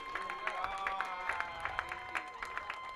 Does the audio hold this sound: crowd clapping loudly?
yes